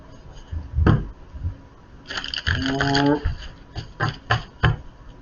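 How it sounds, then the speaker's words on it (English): Tarot cards are shuffled in a quick riffling burst, framed by a few sharp taps and clicks, close and fairly quiet. "Let me get a shuffle for those."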